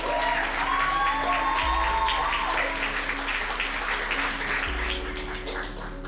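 An audience at an immigrant storytelling evening claps to welcome a storyteller, with dense, steady applause that fills the room and fades slightly toward the end, under a constant low hum.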